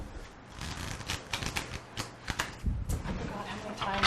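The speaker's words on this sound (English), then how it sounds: "I forgot how many times I cut the deck." A large tarot deck is shuffled and cut by hand, giving irregular flicking riffles and soft card slaps at close range, with faint background noise.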